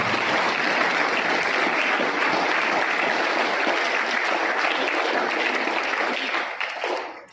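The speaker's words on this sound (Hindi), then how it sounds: "सबका आप सर का तालियों से स्वागत करें।" A school audience in Pachpadra, Balotra claps steadily and loudly for about seven seconds to welcome a young police officer, a dense sustained wash of applause that tapers off at the end.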